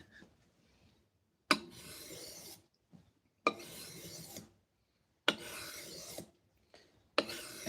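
A rounded blade is drawn across a 3000 grit sharpening stone in four long, even rasping strokes. Each stroke is separated by a short silent pause, and the scraping is close and clear with no talk.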